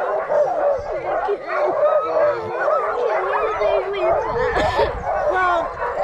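A pack of sled dogs at Big Sky Resort, Montana, barks and yips in an excited, continuous chorus, close and loud, with voices mixed in.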